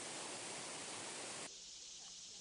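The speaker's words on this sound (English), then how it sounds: "This is the largest waterfall on the east coast of North and South Carolina" Broad, steady roar of rushing water from a large waterfall in the North Carolina foothills, heard from some distance, with the tone dulling slightly partway through.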